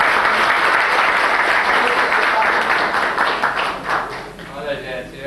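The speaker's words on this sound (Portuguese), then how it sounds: "Até mais uma salva de palmas em nome da minha filha transplantada" An audience in a municipal auditorium meeting gives a loud, dense round of applause that thins out toward the end as a voice begins to speak over it.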